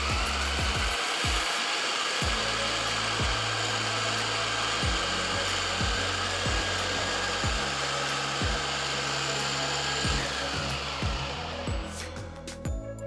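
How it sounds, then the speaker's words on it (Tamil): An electric juicer squeezing oranges runs with a continuous loud motor whir and regular rhythmic thumps, then winds down and stops near the end. "இன்றைக்கி நான் எலக்ட்ரிக் ஜூஸரை யூஸ் பண்ணுறேன்."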